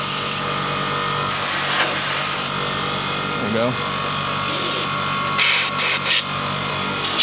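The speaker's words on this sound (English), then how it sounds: "Blasting my graphics card." Compressed air sprays in loud hissing bursts to blast dust out of a PC graphics card. Several long blasts and some short ones are heard up close, and a person speaks briefly between them.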